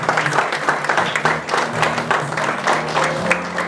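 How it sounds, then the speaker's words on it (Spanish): Guests at a quinceañera party burst into sustained applause, a dense crowd of clapping hands filling the room at a steady, loud level, with faint background music tones beneath. "A ellos un fuertísimo aplauso"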